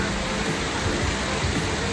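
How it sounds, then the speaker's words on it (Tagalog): Heavy rain pours steadily on Australian bushland, a dense, unbroken roar that stays even and loud throughout. "Yan o, umulan na rin. Lakas ang ulan."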